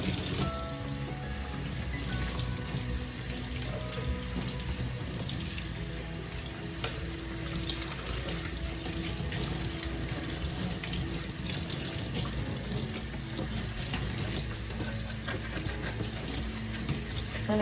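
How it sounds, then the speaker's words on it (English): Seed trays are rinsed under a running tap, a steady, continuous stream of splashing water that stays even throughout with no talking. "then you're going to rinse them really well."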